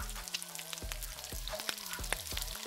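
Garlic and ginger paste frying in a hot pan, a dense close crackling sizzle with sharp spitting pops, alongside a low electrical hum and a few stirring knocks.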